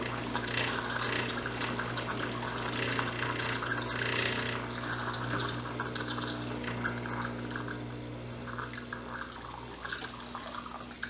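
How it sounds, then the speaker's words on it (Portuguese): A coffee maker, repaired after an error 5 fault, pumps and circulates water with a steady gurgling, rushing flow over a constant low hum, continuous and fairly close throughout. "E ela já começou a circular água."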